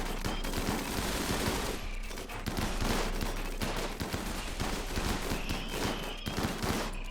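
Rapid, overlapping turret gunfire from a colony's defensive line in the video game Rimworld, a steady dense fusillade of close, crackling shots that runs unbroken for several seconds with no talk over it.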